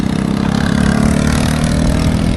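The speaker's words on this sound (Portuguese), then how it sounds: "Mais uma moto." A motor engine drones steadily at close range, a low rumbling hum that holds even throughout, with no voices.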